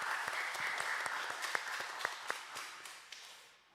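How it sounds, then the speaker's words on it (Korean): A Sunday church congregation claps in unison after a hymn. The applause is quiet and dense, with a few louder individual claps scattered through it, and it stops abruptly at the end. "우리 하나님께 영광의 박수 올려드리시겠습니다"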